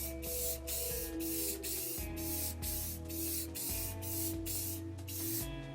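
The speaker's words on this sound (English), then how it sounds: "I'm just putting on several light coats of the Krylon Clear Gloss" Krylon Clear Gloss hisses from an aerosol spray can in a series of short, even bursts with brief gaps between them, close and clear with no talking.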